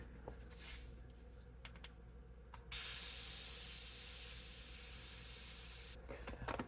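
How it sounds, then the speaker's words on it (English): Air rushes out of a Schwalbe Ice Spiker Pro tire on a Trek Marlin 6 mountain bike through a valve tool, a steady close hiss lasting about three seconds before cutting off into light handling noises. "I'm just using it to take the air out of the tire."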